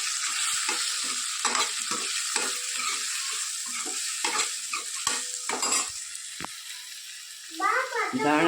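Rice is stirred and fried with fried-rice masala, garlic and red chili paste in a pan for pulao, a loud continuous sizzle with rhythmic scraping strokes, and a voice briefly at the end.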